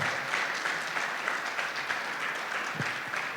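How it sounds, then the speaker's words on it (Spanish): A church congregation applauds steadily during a sermon, the clapping dense and fairly distant, with no talk over it. "Dale un aplauso al Señor, se lo merece."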